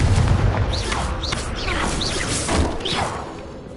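A Confringo blasting spell explodes in the Hogwarts Legacy video game, with a string of sharp whooshing bursts and booming impacts repeating roughly every half second over a loud, dense rumble.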